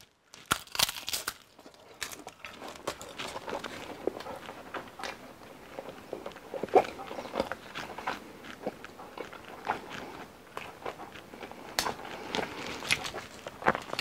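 Repeated crisp crunching bites and chewing of a crunchy pie crust from a mini pie maker, close up, with sharp irregular crackles spread across the whole stretch and no talking.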